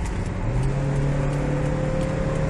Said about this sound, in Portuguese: ele tá fazendo a operação kickdown. Acelerou tudo, ele vai.